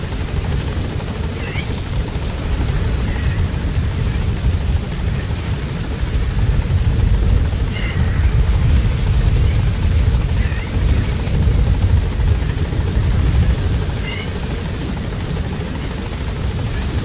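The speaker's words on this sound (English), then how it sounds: "Support helicopter has arrived." Support helicopter in the video game Metal Gear Solid V: The Phantom Pain arriving, a steady loud rotor thrum and engine roar holding through the whole stretch, with a brief radio voice over it.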